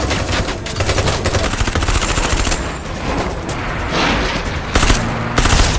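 Rapid gunfire in a heist-thriller gunfight, dense bursts of shots crackling almost continuously, loud and close, with heavier reports near the end and no voices.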